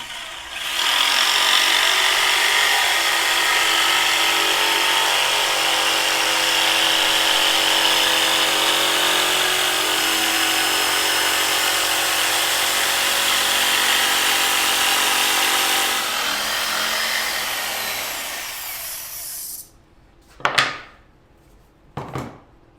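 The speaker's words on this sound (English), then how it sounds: "We're set up at the jigsaw." A jigsaw cutting wood in a shop to make a push stick, a loud, steady high-pitched buzzing saw that runs for about twenty seconds and then stops, followed by a few short knocks and handling sounds.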